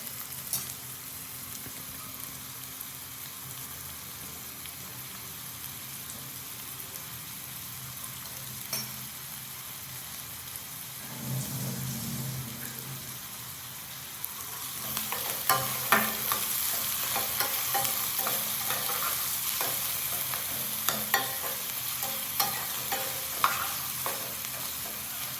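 Onions fry in a pan for chicken gravy with a steady, close sizzle. It grows louder and denser partway through, with crackles and occasional stirring taps.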